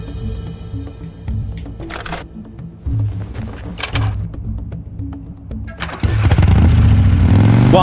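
A motorcycle in the game Beyond Two Souls is kickstarted, with several sputtering kicks and clunks before the engine catches and settles into a loud, close, steady running roar.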